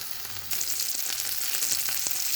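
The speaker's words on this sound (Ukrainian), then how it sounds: "налила олії на сковорідку і викладаю швом вниз, викладаю рулетик." Continuous crackling sizzle of chicken rolls frying seam-side down in hot oil in a pan, growing louder after a moment, with a few soft clicks.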